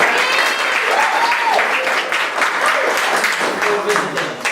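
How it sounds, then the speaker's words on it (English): A dinner audience at an evening event gives a dense, sustained round of applause for the sponsors, loud and continuous throughout, with a few voices faintly mixed in. "Round of applause for them, please."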